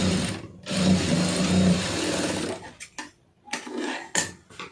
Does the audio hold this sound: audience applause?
no